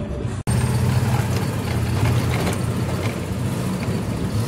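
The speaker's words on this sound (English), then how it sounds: "Wow, that engine is super loud." A loud vehicle engine rumbles continuously up close, a heavy low drone that stays steady for several seconds after a brief cut at the start.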